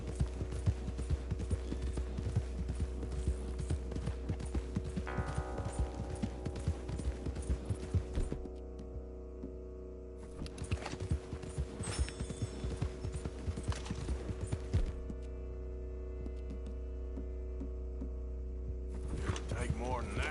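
Horse hooves clip-clop in a steady rhythm during riding in the video game Red Dead Redemption 2, with a voice speaking over the hoofbeats and a low constant background ambience.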